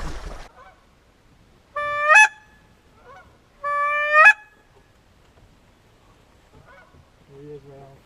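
A goose honks loudly nearby during a waterfowl hunt, two drawn-out nasal calls a couple of seconds apart, with a few soft rustles and a shorter low call near the end.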